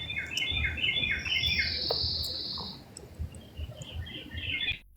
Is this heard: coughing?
no